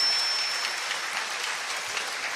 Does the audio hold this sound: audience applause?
yes